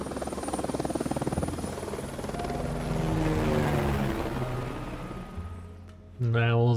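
A helicopter in the stealth game Hitman Freelancer thrums with a steady rapid rotor chop, fairly close and continuous, while a voice talks at the end.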